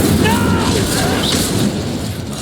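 An Incendio fire spell cast in Hogwarts Legacy: a loud, steady roaring blast of flame with booming texture that fills the whole moment without a break.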